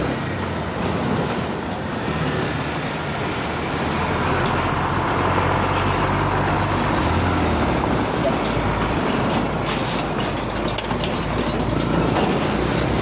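A truck labors ahead on a mountain road near Dalat, Vietnam, heard from a following motorcycle as a loud, steady broadband roar of engine and road noise that swells slightly and continues throughout.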